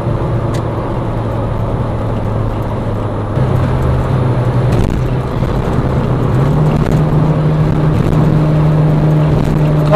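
A Suzuki Swift Sport drives on a road with a loud, steady engine drone and road roar close by, the engine note shifting pitch as it works through the drive.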